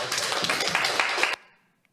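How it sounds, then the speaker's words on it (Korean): A church gathering bursts into a short round of clapping, dense and close for just over a second before cutting off abruptly into near silence. "박수."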